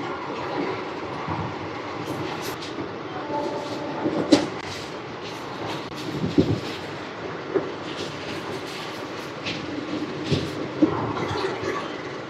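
Onboard the Circar Express 17644 on its Kakinada Port to Chengalpattu run, a constant rolling rumble carries scattered clanks and knocks from the wheels and couplings at irregular intervals, moderately loud, with no voices.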